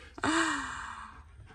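A person yawns, a single drawn-out breathy vocal yawn that starts with a sharp intake and slowly falls in pitch before trailing off.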